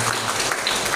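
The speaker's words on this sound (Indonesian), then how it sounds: "Tepuk tangan dulu." Brief burst of audience clapping at a community planning meeting in a hotel, a short, fairly loud patter that lasts about a second.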